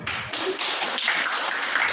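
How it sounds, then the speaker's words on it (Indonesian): Audience applause at an Indonesian discussion gathering, a brief, fairly loud burst of scattered hand clapping that continues evenly for a couple of seconds. "Kalau kita kasih tepuk tangan."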